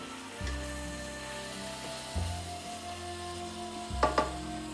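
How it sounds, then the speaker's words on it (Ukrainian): Lamb liver frying in a pan with onion gives a steady, close sizzle under a droning low hum, with a couple of brief clatters of a utensil against the pan near the end. "Хай вона всмажиться трохи з нашим лівером."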